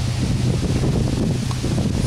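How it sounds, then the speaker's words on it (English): Strong, steady wind buffets an outdoor microphone during a Caterpillar generator set teardown, a dense, continuous rumble with no break and no talking. "Sorry about that wind."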